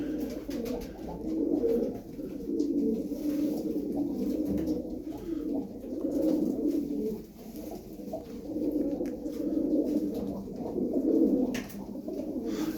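Sinekli Mavi game pigeons coo steadily and close by, a low rolling murmur of many overlapping calls continuing throughout.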